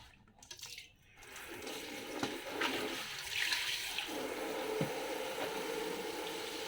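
A newly installed household faucet, leaking from a loose thread, gushes and trickles nearby after a short clatter at the start, settling into a steady running-water rush.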